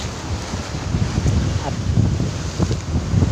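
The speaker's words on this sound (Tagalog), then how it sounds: "mabagat po yung hangin ngayon" Strong typhoon wind on the coast buffets the microphone in a steady low roar with gusting surges, loud and continuous throughout.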